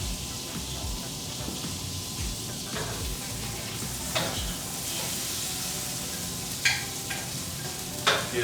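Vegetables frying fast in a hot pan give off a steady, close sizzle, broken by scraping stirs and a few sharper pops and clatters toward the end.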